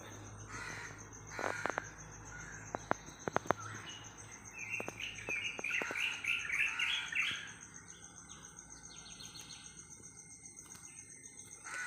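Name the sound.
bird calling in yard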